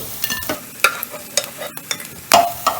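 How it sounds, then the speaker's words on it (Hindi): Taro (arbi) pieces shallow frying in oil in a pan, with a steady close sizzle broken by scraping stirs and spoon clinks at irregular intervals. "और इसी तरह बाकी की अरबी भी फ्राई कर लेंगे।"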